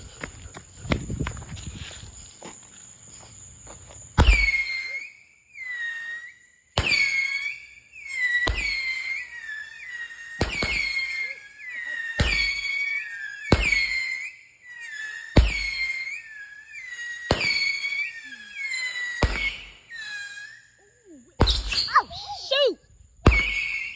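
Fireworks and dynamite go off on the Fourth of July in a quick series of loud, sharp bangs, some with whistling or crackling tails, spaced a second or two apart, close by, with people talking between them.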